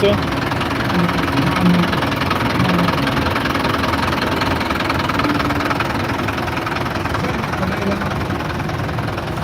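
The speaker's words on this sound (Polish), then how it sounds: "krzyczy wybrany silnik bardzo żywotny, bardzo mocny, bardzo oszczędny" A German Deutz 40 tractor engine idles and chugs loudly nearby with a steady rumbling knock during a parade in Wilkowice, while someone talks over it.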